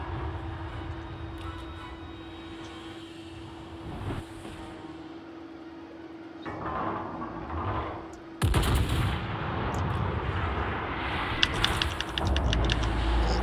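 Battleship cannons firing in a naval combat video game, with heavy booming blasts and rumbling explosions that build to a loud, dense barrage in the second half over a steady engine drone.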